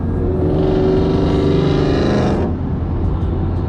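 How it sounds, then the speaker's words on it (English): A Ford Mustang revving hard and accelerating, a loud, close engine roar that rises steadily in pitch, then cuts back abruptly to a lower rumble near the end. "Got Carlos ripping the Mustang."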